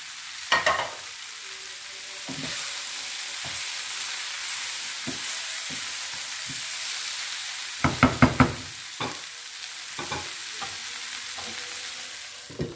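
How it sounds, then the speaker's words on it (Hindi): Green chilies fry and are stirred in a pan of KPK-style chaunga (pamanke) sabzi, a steady sizzle broken by sharp knocks of a spoon against the pan, with a quick cluster of clatters midway. "मैं हरी मिर्च डाल रही हूँ।"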